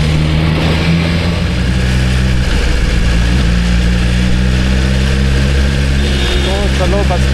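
A BMW S1000RR sport motorcycle with its stock exhaust drones loudly and steadily on a ride, the engine note rising and settling as it is revved, with wind rush throughout.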